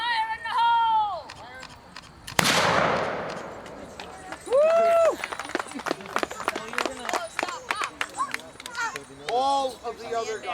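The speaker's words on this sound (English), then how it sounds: "50 cal Queen Anne flintlock. Fire in the hole!" .50 caliber Queen Anne flintlock firing at a Renaissance festival, one sharp blast cutting through a crowd's talk, with voices and whistles continuing around it.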